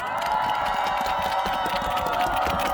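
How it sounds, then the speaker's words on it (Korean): A festival crowd at the Yangpyeong gorosoe festival claps and cheers in a steady, dense wash of sound with no break, loud and continuous throughout. "박수 한 번만 쳐주세요"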